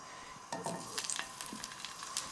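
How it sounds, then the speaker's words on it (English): Garlic sizzles in hot extra virgin olive oil in a pan, a steady close crackling hiss with brief bursts of sharper pops and spatters throughout, no voices. "Now I'm going to saute the garlic in olive oil with my shrimp"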